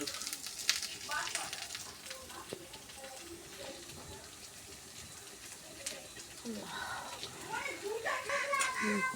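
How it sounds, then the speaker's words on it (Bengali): Onion, garlic and chili fry until browned in oil, a moderate steady sizzle and hiss with occasional stirring, while voices murmur in the background. "পেঁয়াজ রসুন মরিচ সুন্দর করে বাদামি কালার করে ভাজে নিচ্ছে"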